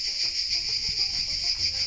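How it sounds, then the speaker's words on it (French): Cicadas in pine scrubland of Scots pine trees keep up a dense, continuous, shrill buzzing drone, loud and steady throughout with no pauses. "soyez dans la garrigue, entouré de pin sylvestre et à écouter le chant des cigales"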